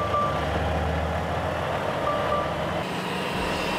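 A truck engine idles steadily after start-up on an oversize-load haulage rig, a continuous low rumble with faint high beeping tones, no talking.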